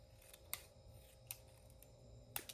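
Scissors snip through a paper flower to cut it in half, giving three or four crisp, separate cuts spaced apart, close but quiet against a soft room hush.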